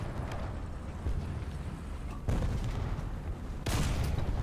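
Two booming cannon shots from a BT-7 tank's 45mm gun in War Thunder ring out a little over a second apart, each a sharp loud blast over a constant low engine rumble.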